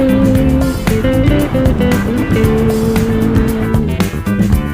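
Dense road traffic in Metro Manila's National Capital Region, with car engines droning and vehicles passing close by in a loud, continuous stream, layered horn-like tones and rumbling motors throughout.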